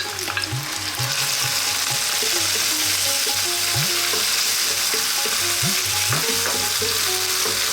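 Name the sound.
tomatoes dropped into a hot pan of frying spices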